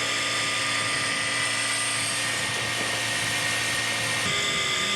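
A scale model aircraft engine whines loud and continuous at a scale aircraft show, a steady high buzzing drone that shifts slightly in pitch near the end, with no speech.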